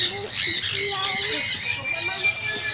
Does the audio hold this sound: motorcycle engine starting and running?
no